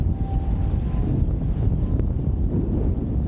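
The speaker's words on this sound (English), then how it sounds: "there we go, it's a good gust" Strong wind gusting while wing foiling on a 3.6 wing, a steady loud roar of wind buffeting the microphone with a low rumbling undertone throughout.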